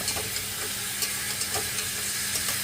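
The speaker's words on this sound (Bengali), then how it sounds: "নেড়ে চেড়ে মশলার সাথে গাঠি আলু ভালো করে মাখিয়ে কষিয়ে নেব" Taro stems being stir-fried with spices in a pan for a vegetarian taro curry: a steady close sizzle with a soft hiss and a few light spatula scrapes, with no voices.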